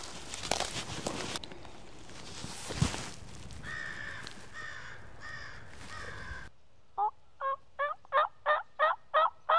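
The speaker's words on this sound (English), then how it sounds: "He was gobbling every time." A wild turkey gobbling outdoors, a rapid series of loud rattling calls near the end after a stretch of rustling and ambient noise.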